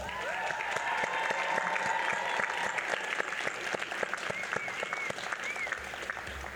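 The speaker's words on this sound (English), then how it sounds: "please stand and give all those who helped you get to this moment a round of applause" Graduates and guests at Augusta University's fall commencement and hooding ceremony give a sustained round of applause, a large crowd's clapping steady and dense throughout, with faint cheers and whoops drifting over it.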